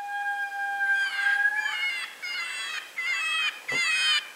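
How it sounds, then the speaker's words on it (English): An electronic predator call plays a rising, wavering coyote howl, then repeated high cottontail rabbit distress squeals pulse in steady bursts, loud and close, with no talking. "That's a coyote howl also, and a cottontail."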